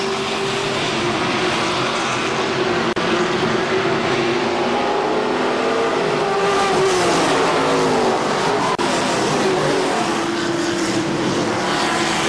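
Race cars roar down the front stretch at KilKare Speedway while battling for second, a loud, continuous engine drone with shifting pitch as the pack passes close by.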